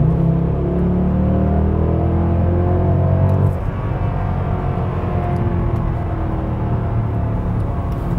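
A 2010 Mercedes-Benz E63 AMG gets punched hard from inside the cabin, a loud, steady engine drone and road rumble holding at high level and shifting tone partway through as it pulls, with no voices.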